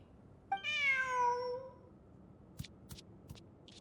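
A single drawn-out cat meow in the video game Genshin Impact, close and clear, followed by several faint clicking taps, with no voices.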